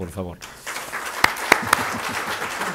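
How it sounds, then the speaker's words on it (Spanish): A voice speaks briefly in Spanish at the end of a lecture while scattered applause builds underneath, with a few sharp, distinct claps standing out near the middle. "Nos despedimos de ella con un aplauso"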